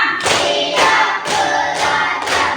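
A class claps together in the 'tepuk semangat' cheer, a steady rhythmic pattern of group hand claps in several loud bursts, close and clear with no talking.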